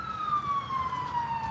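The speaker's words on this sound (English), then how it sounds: "ambulance goes by." An ambulance siren passes by outdoors at an angler meeting, its single wailing tone sliding steadily downward as it moves away, moderately loud over light background noise.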